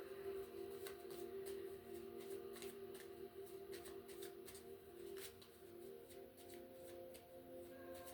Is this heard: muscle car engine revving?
no